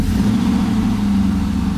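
A V8-swapped Volvo 240 wagon runs steadily with a loud, deep, even engine drone and low throbbing exhaust, heard up close with no voices.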